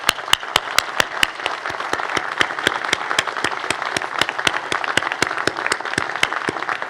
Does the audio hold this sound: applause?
yes